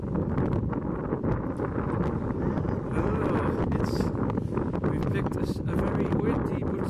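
Wind gusting hard across the microphone on the Niantic Bay Boardwalk on a sunny day, a constant low roar, with voices talking faintly underneath.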